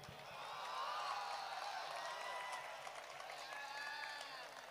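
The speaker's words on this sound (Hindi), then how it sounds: "तालियां थोड़ी सी कमजोर है आपकी" An audience at a Hindi comic poetry gathering gives soft, thin applause that swells slightly and then tapers, with faint crowd murmur and distant voices mixed in.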